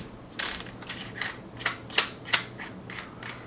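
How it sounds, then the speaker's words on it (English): A flash hider is unscrewed from a Charles Daly N4S shotgun, giving a series of close, dry ratcheting clicks and metallic ticks in an uneven rhythm, fairly quiet with no talking. "We'll remove the flash hider here."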